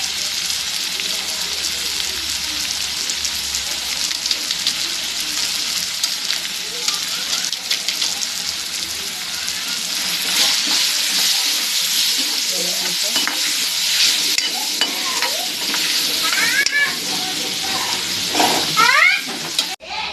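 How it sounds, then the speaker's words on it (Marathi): Spices with asafoetida and red chilli powder sizzle and crackle in hot oil in a pan, a steady loud frying hiss with occasional stirring scrapes, while a voice talks over it. "आता मी हे सगळे मसाले टाकून व्यवस्थित असं तेल सुटेपर्यंत आपण भाजून घेणार आहे"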